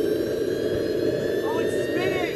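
A small jet engine mounted inside a computer case, its hot exhaust venting into the case, roars with a loud, steady whine and a high tone that rises slightly toward the end.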